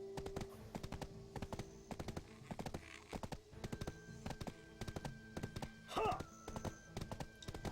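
Horse hooves in the online game Black Desert Online make a steady, rapid clip-clop gait, moderately quiet and regular, with a brief whinny around the middle.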